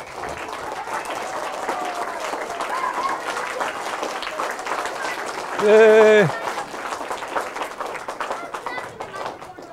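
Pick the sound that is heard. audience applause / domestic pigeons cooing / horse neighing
audience applause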